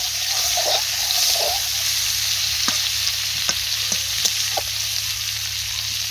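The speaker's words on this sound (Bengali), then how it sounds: "নাড়াচাড়া করে একটু হালকা লাল লাল করে ভেজে নিলাম।" Cauliflower florets frying in hot oil give a steady, close sizzle throughout, with a few sharp clinks and scrapes of stirring breaking through the hiss.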